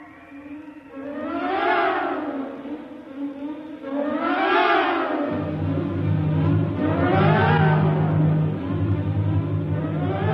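Howling wind effect for a radio drama storm at sea reaching 175 miles an hour, rising and falling in three long loud swells over a steady low drone, with no talk.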